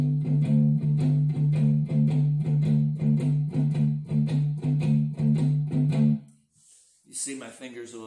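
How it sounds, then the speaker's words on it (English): Electric blues guitar playing a shuffle, alternating root with fifth and sixth, in a steady, driving, close pattern for about six seconds before stopping; brief talking follows. "another rhythm style that you can play in that song that works quite well is an alternating root fifth and sixth that sounds like this"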